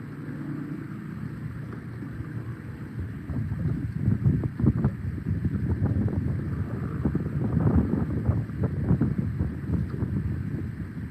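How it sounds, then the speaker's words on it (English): Heavy wind buffets the microphone at an outdoor fishing spot below an Ohio River dam, a continuous low rumbling roar that swells louder partway through with gusty fluctuations. "the wind's been heavy all day"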